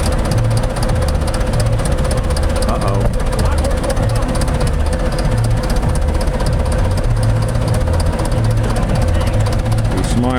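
Very old Hanomag tractor engine towing a motorhome, a loud, continuous low chugging drone that holds steady throughout.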